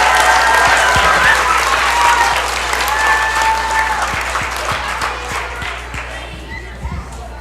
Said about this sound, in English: Let's give another round of applause for the graduates from